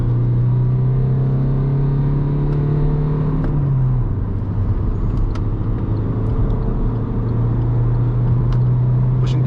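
Alfa Romeo Mito engine at full throttle, steady loud drone with a climbing tone that drops at a gear change and then holds, heard from inside the car without talk.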